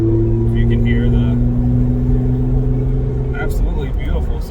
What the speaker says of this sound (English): absolutely beautiful sounds of the AWE exhaust